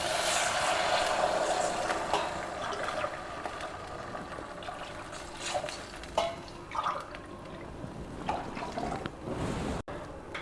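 Water poured into a cooking pan of stir-fried moong dal makes a close, quiet splashing trickle, with small drips and clinks as the flow tapers off.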